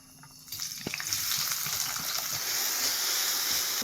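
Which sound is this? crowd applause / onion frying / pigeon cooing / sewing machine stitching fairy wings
onion frying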